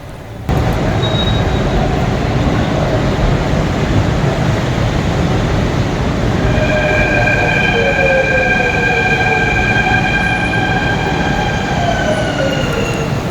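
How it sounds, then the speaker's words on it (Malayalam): A Kochi metro train rumbles in loudly and steadily, with high-pitched wheel squeals and tones rising over the roar as it arrives. "അപ്പോൾ നമ്മളുടെ മെട്രോ വരുന്നുണ്ട് അപ്പോൾ അതിൽ കയറണം"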